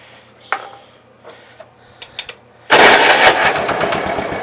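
A few scattered clicks and knocks come first, then a John Deere 110 lawn tractor engine bursts loudly to life partway through and keeps running with a rough, rapid chugging close by.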